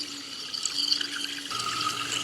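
A small brushed RC motor spins submerged in water for break-in, a steady churning, bubbling wash with a faint high whine that rises in pitch partway through, close and continuous.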